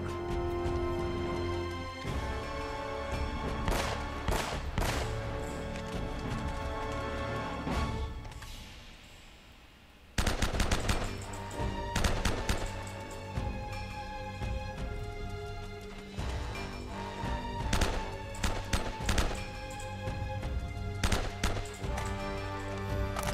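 Gunfire in Uncharted: Drake's Fortune aimed at a sniper: sharp shots crack out at irregular intervals over a busy game soundscape, with a brief lull partway through.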